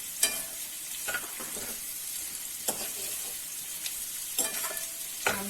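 Carrots and beans frying in a pan, a steady soft sizzle with occasional louder crackles and stirring scrapes.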